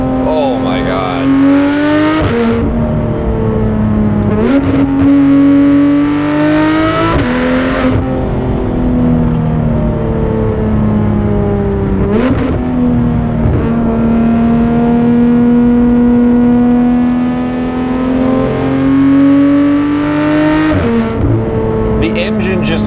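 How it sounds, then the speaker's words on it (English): A naturally aspirated 991-generation Porsche 911 GT3 RS engine revving hard while driving, its pitch climbing through the revs and dropping at each gear change, loud and close, with someone talking over it at times. "The engine just harmonizes with itself as you go through the RPMs"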